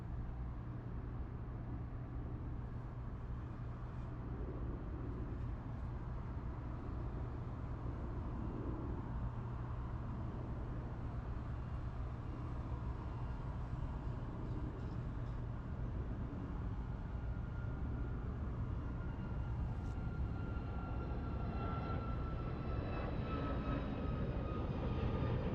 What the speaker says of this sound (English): 776 from LAX to Montreal on a 737 MAX 8. Air Canada is on its takeoff roll.